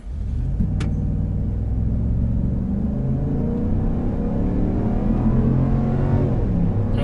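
A Jeep Wagoneer towing a 7,000-pound trailer in tow haul mode accelerates hard from a standstill, its engine a loud, close, steady roar with rising rumble that carries on without a break.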